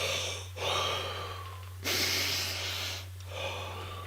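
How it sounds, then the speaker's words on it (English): Deep, slow conscious breaths, close to the microphone: three long airy inhale and exhale cycles with brief pauses between them, over a low steady hum. "Deep, conscious breaths."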